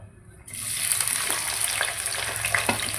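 Curry leaves, green chilli, ginger, garlic and onion fry in hot coconut oil, a steady close sizzle that starts abruptly and carries on with faint stirring clinks.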